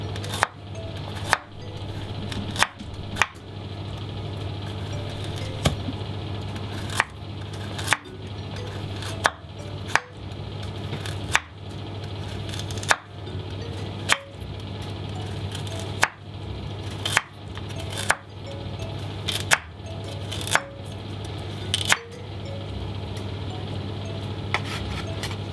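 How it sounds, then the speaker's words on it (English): A knife thinly slicing carrots on a cutting board, heard as a steady series of crisp, evenly spaced chops over a constant low background hum. "thinly slice up our veg. You don't want these carrots too thick."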